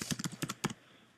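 Quick keystrokes on a computer keyboard, about eight close, crisp clicks in an irregular burst that then falls quiet, with no talking.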